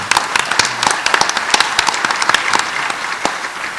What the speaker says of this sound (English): Give them an applaud, if you will.